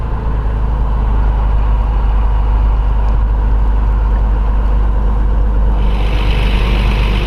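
A Columbia 400 aircraft engine idles at about 1,000 RPM. The drone is steady, loud and close, with no talk over it.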